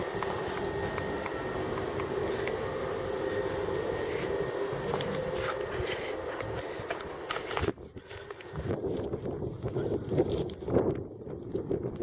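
Strong wind blows outdoors on a very hot day at Lake Buffalo, a loud steady roar buffeting the microphone, easing briefly near the end into gustier, uneven rushing.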